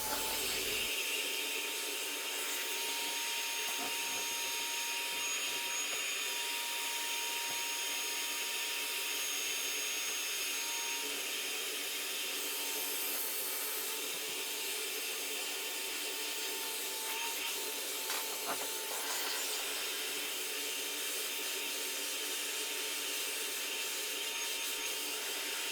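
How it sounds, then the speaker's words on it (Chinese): A Metabo AS18LPC cordless vacuum cleaner runs steadily while cleaning a workbench, giving a continuous close, airy whine and hiss throughout with no talking. "第5次测试工作台上的吸尘和清洁效果。"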